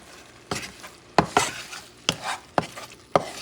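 Crabmeat dip stirred in a pan with a utensil, soft scraping strokes and light clinks against the pan over a faint sizzle, close and with no talking.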